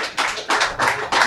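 Applause on a live German football talk stream, coming in loud, dense bursts of clapping that swell and ebb about four times in quick succession.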